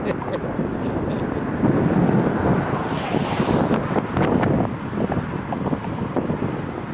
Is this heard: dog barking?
no